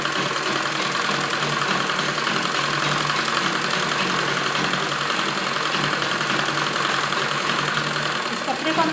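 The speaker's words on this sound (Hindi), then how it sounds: "खींच कर हम इसको थोड़ा सिलाई लगाएंगे" Sewing machine stitching palazzo lining fabric, a continuous close mechanical whir with rapid steady needle clatter running throughout without pause.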